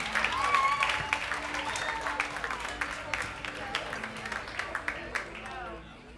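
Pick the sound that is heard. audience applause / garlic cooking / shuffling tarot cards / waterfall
audience applause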